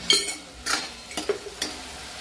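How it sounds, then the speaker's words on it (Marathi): Onion, tomato and ginger-garlic paste fry in a hot oil tempering for a black chickpea curry, with faint sizzling and a few sharp scrapes and clinks of a spoon stirring the pan. "ते असं छान परतून घेतलेलं आहे फोडणीमध्ये"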